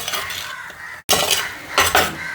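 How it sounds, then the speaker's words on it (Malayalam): Spoon scraping and clinking in a pan while stirring a curry of drumstick, tomato and shallots, a few quick close-up scrapes with a brief break in the middle. "ഇനി നന്നായിട്ട് ഒന്ന് ഇളക്കി കൊടുക്കാവേ"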